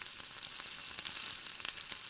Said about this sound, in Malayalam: ഇതിലേക്ക് ഇഞ്ചി വെളുത്തുള്ളി പേസ്റ്റ് ഇട്ട് കൊടുക്കാം